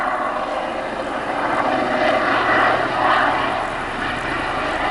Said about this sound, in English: So it looks like the helicopter just left somebody.